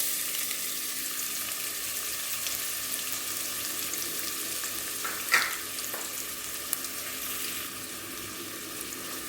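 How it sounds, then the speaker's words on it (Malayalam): Two medium onions, sliced, sauté in hot oil with an even, hissing sizzle that holds steady throughout, broken once by a brief utensil clatter. "ഇനി ഇത് നന്നായിട്ടൊന്ന് വഴറ്റിയെടുക്കട്ടെ."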